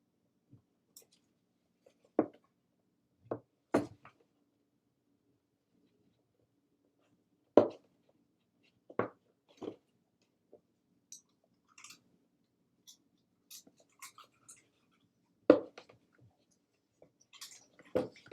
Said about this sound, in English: She brought her bone in here to chew so you guys could hear her munching.